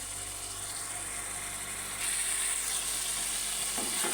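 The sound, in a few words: spice masala being sautéed in a pan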